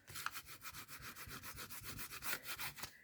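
Washi tape being rubbed down firmly to make it stick, a steady run of quick scratchy strokes that carries on evenly, close up and alone with no talking.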